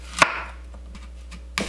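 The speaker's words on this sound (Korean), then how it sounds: "양파 반 개를 믹서에 갈기 좋은 크기로 썰어주세요." Two sharp knife chops on a cutting board while cutting half an onion into chunks, about a second and a half apart, with faint crisp slicing sounds between them.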